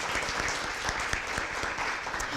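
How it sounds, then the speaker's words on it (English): A lecture-hall audience at a university school event applauds, dense continuous clapping at moderate distance, even and sustained without a break. "Let's give him a round of applause."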